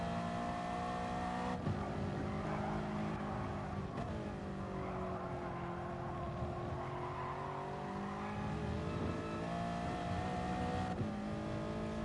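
Race car engine droning steadily on a flying lap around Lago Maggiore in Gran Turismo Sport, with continuous loud revving that rises and dips through gear changes, alone without talk.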